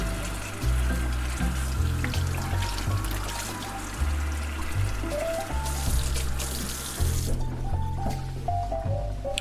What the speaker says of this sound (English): we're going to put it under some cold running water and peel it.